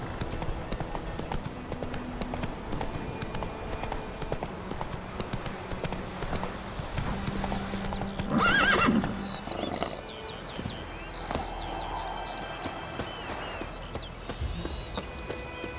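Roach, the horse in The Witcher 3, gallops steadily with dense rhythmic hoofbeats throughout, joined by a brief louder burst midway and faint ambient game sounds.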